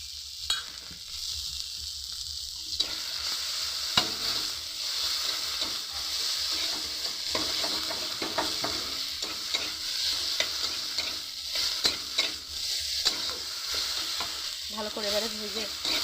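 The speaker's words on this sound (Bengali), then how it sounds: "ভালো করে এবারে ভেজে নিই মশলাটা" Ground cumin paste frying in oil in a pan, a steady close sizzle broken by frequent spatula scrapes and small pops over a long stretch, no talk.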